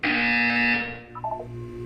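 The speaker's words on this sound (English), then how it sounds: "You will hear a buzzer." A loud electronic buzzer sounds once in the Portal 2 video game, a steady tone holding for under a second before fading, followed by a few faint electronic blips.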